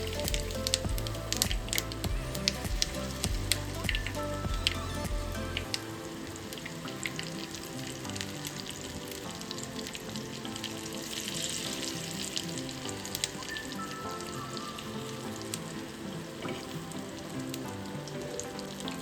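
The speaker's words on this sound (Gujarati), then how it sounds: "આપણે હાંડવા માટેનું જે ખીરું છે ને એને આપણે એડ કરી દઈએ" Instant Gujarati handvo batter poured into hot tempering, a dense, close sizzling hiss with crackling that runs continuously, louder and rumbling at first and then settling into a steady frying sizzle.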